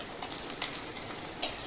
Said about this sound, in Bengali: পেঁয়াজটা একটু ভালো করে ভাজবে। সর্ষের তেলেই রান্নাটা করছি।